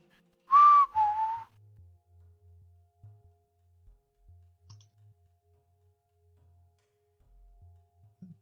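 A game master whistles to imitate a low whistle during a tabletop role-playing session: two clear descending notes in quick succession, fairly loud and close, followed by quiet faint knocks and bumps.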